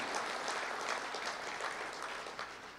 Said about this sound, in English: you can applaud yourself for the wonderful result